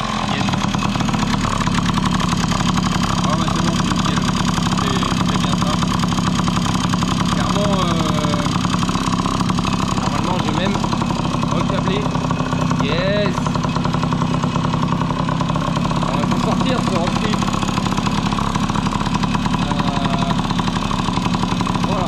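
A Tomos moped engine, just repaired, runs continuously with a buzzing, rattling idle that holds steady throughout, close and fairly loud, with a voice talking intermittently over it.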